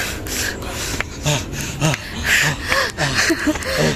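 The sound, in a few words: heavy panting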